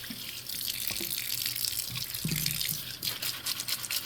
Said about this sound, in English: So we're going to go ahead and wash our carrots.